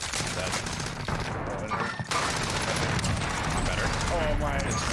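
Gunfire in the Warzone video game, dense rapid shots crackling continuously through the whole stretch with a brief lull in the middle, loud and close, while someone talks over it.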